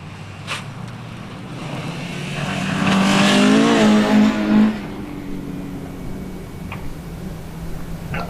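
A yellow Chevette rally car races past at the Chepstow rally festival, its engine note swelling from a distant approach to a loud, revving pass around mid-clip before fading away, with some wind noise.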